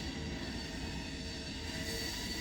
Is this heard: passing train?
yes